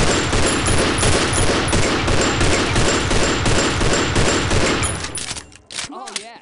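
Rapid, loud, dense gunfire from the Eternal Damnation video game bursts in a continuous automatic fusillade, then breaks off near the end as a voice begins speaking.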